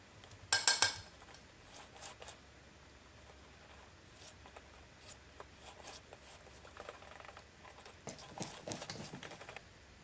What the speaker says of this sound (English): Scrape out from the sides and whisk it.